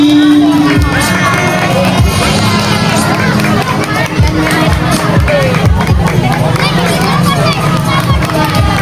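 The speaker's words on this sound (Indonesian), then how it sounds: "Tepuk tangan yang meriah buat Ananda Kadi." At an elementary school graduation and promotion ceremony, a crowd cheers and shouts loudly, with children's voices and general hubbub filling the space and little distinct clapping.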